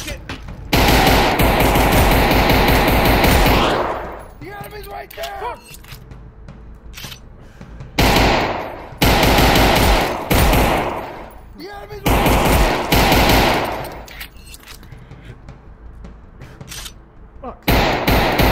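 Gunfire in a SteamVR virtual reality game, loud rapid automatic bursts repeating in several long volleys separated by quieter gaps with faint background noise.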